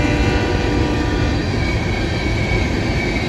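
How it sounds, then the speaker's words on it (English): A BNSF mixed freight train rolls past close by, a loud continuous rumble and roar of wheels on rail with a faint squeal, filling the short moment without pause. "This is a mixed freight."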